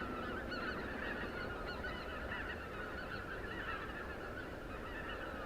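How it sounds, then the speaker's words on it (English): Loud snow geese honking overhead at night, a dense, unbroken chorus of many overlapping calls with no talking. "They're actually really loud."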